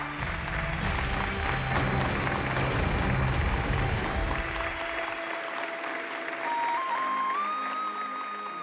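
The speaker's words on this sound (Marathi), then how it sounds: "टाळ्या." Crowd applause before a women's final wrestling bout, a steady clapping wash mixed with drama background music and sustained tones that carries on as the low music drops away midway.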